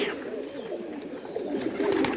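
Soft cooing of pigeons over a background murmur, a few low warbling calls close by.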